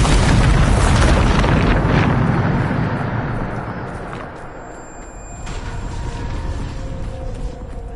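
A Bombardo blast spell from Hogwarts Legacy goes off as a loud, close explosion, its boom rumbling and slowly fading into a lingering hiss.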